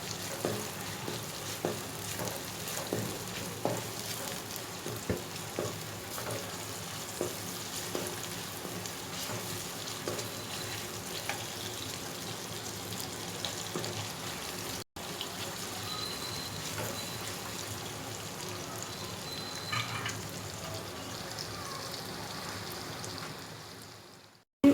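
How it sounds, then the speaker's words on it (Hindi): Cut whole chillies fry in hot oil for a turai sabzi, a steady crackling sizzle that holds for about twenty-five seconds with a few scattered stirring sounds and no talk. "अब मैं इसे गोल्डन ब्राउन होने तक फ्राई करूँगी"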